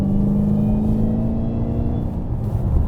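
A Dodge Challenger Hellcat Redeye Widebody V8 rumbles steadily and loudly from inside the cabin, its engine note holding a deep, even drone throughout with no voices.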